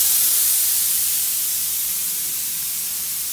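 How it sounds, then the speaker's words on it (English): Air spray gun spraying latex paint in a continuous, loud, even hiss that holds steady throughout with no talking. "So from here, we're just going to finish spraying the project."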